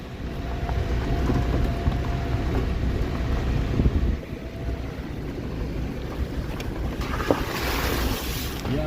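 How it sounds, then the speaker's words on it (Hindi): The Pindar river near Badiyakot in the Uttarakhand hills rushes in a steady, dense roar of flowing water, with gusts of wind buffeting the microphone throughout. "और ये है पिंडर नदी, ये यहाँ से निकलती है और जाके कर्णप्रयाग में मिल जाती है, अलकनंदा में।"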